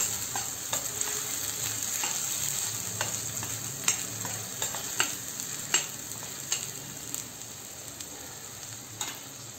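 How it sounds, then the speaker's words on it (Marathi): Mixed vegetables sautéing in oil for a Goan-Konkan style dish, a steady close sizzle with scattered light clicks of stirring, no voices. "खमंग स्वाद येईपर्यंत हे तेलामध्ये परतून घेतले"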